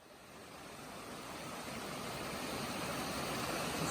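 Creek water at the first trail crossing of Greater Creek on the Pacific Crest Trail, a steady broadband rush that swells slightly louder over a few seconds, with no voices.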